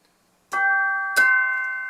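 Two struck bell tones from a Casio WK-7600/CTK-7200 electronic keyboard ring out in succession, each with a bright attack and a long sustained, slowly fading chime.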